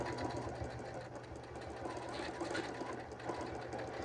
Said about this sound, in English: I'm with my needle going to draw half hearts